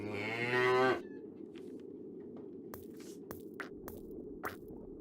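A cow in The Whispered World gives one loud, drawn-out moo close by, lasting about a second, then falls silent over a quiet hum with a few faint clicks.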